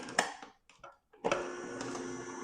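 A juicer starting up, either a Nama J2 or an Aeitto, with a few clicks and brief bursts before the motor settles into a steady close hum with a mechanical whir.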